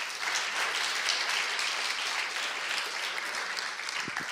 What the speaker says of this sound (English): please give the organizers a round of applause